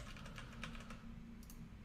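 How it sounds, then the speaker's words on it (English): Soft keystrokes tap on a computer keyboard in a brief quiet burst over a low hum, with no talking. "I'm typing on the other window"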